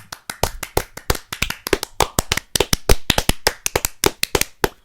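Steady, brisk hand clapping from a small group, a dense run of sharp close claps at a quick uneven rhythm with no talk over it.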